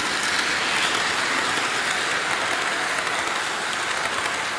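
A small electric Thomas Kinkade Christmas Express toy train runs continuously along its track, a steady whirring rattle that stays even in loudness from start to finish.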